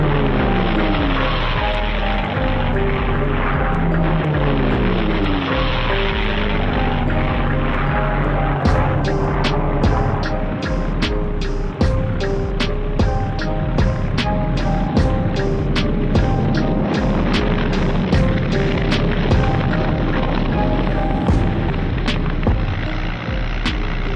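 WWII fighter planes roar past and zoom into victory rolls, a loud, sustained propeller engine drone with shifting pitch as the aircraft pass close overhead, crackling bursts layered in toward the end.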